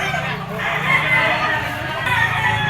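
A rooster crows loudly and continuously at a broodstag auction market in Lipa, with other fowl clucking and people's voices mixed in around it.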